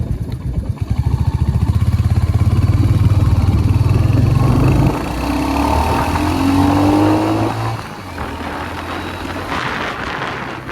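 A Royal Enfield Hunter motorcycle pulls away, its engine note rising loudly through first gear, easing at a shift into second, then climbing again and fading slightly, heard close and continuous.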